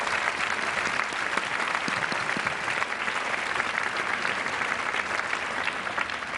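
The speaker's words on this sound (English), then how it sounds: "let's give them a big round of applause." A large conference audience gives board members a big, dense round of applause, continuous and even in loudness from start to finish.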